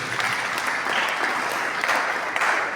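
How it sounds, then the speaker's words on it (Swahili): A church congregation claps together in a sustained, dense round of applause that stays steady and fairly close throughout, with no voices rising above it. "Tumpigie Bwana makofi."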